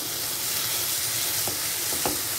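Prawns, some ground and some whole, frying together with spice paste for potoler dorma, a dense, loud steady sizzle with a few light stirring scrapes near the end.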